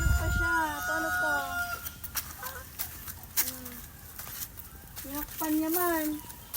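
A hen clucks and cackles while laying an egg, a run of close, pitched calls rising and falling in bursts, with people talking over and between them.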